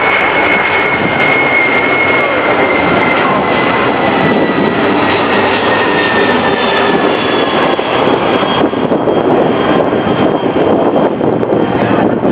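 A Delta Boeing 757 jet airliner, painted pink, roars past in a loud, continuous flyby with a steady engine whine and wind buffeting, the jet noise sustained throughout.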